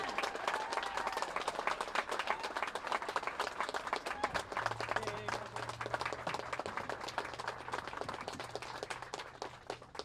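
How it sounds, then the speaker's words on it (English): A crowd applauds for Michael Phillips at the grand opening of a Milwaukee plaza, with steady, dense clapping filling the whole stretch and a low hum running underneath. "Big round of applause for Michael Phillips"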